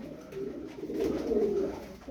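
Female tumbler pigeons cooing close by in a loft, soft throaty rolling coos in a short continuous sequence with faint background noise.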